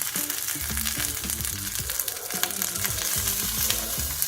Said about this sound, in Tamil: இப்போ பெருங்காயம் போட்டுக்கலாம்.